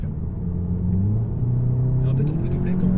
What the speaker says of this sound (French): Donc là, on accélère un coup. Oh, le son.